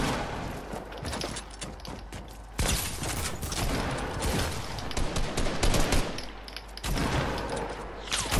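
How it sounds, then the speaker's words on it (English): Gunfire in a Fortnite match: bursts of rapid shots and heavy volleys crackle almost continuously, loud and close, with a few louder impacts and no talk over them. "I'm getting shot at."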